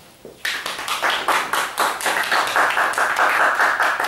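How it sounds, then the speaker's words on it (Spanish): Small audience at a James Bond fan gathering clapping for a prize winner, a sudden onset of fairly loud, rhythmic, close-sounding handclaps that settles into a steady, slightly unified beat. "Un aplauso."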